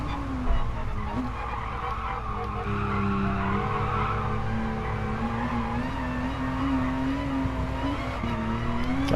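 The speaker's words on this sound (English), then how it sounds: "you can hear the traction control kicking in around the turns" A car in a sim racing video game corners with traction control cutting in, the engine note holding and wavering under a steady tire-scrub hiss through the turns, continuous and fairly loud with no talk.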